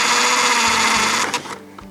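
A power drill boring a hole through a plastic bucket for a water purifier setup, a steady close whine that drops off and sputters near the end as the bit breaks through.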